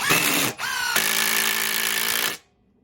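A Ryobi impact driver drives a screw with a loud, close, continuous whirring hammer, briefly dipping near the start, then running steadily for about two seconds before stopping abruptly into quiet.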